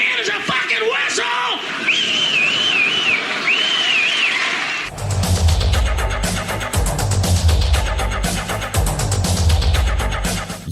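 A wavering whistled tune with rising and falling pitch sounds over a faint background, then stops and gives way to loud, busy music.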